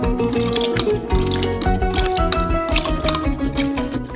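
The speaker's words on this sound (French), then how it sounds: "Et versez du vinaigre, 7 cuillères à soupe." Seven tablespoons of vinegar poured into milk warmed to 50 degrees, a close liquid trickling and splashing with soft drips, steady throughout, no talk.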